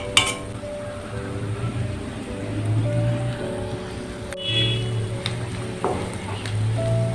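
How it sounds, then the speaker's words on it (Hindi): Ginger garlic paste fries in a pan as a keema dish is prepared, giving a soft, steady sizzle with faint scraping from stirring and a few sharp clinks. "अदरक लहसुन का पेस्ट भी नाज़रीन फ्राई हो गया है"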